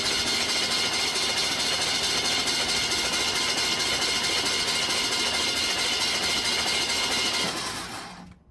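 A carbureted engine fitted with a rebuilt Carter RBS one-barrel carburetor cranks on its starter, a loud, steady, continuous churn that runs alone without talk and stops abruptly near the end.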